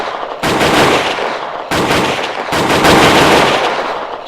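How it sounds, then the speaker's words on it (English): Rapid gunfire from the hip in the video game Apocalypse Not, loud and close, coming in three sustained bursts separated by short gaps, with no talking. "So now you can fire from the hip."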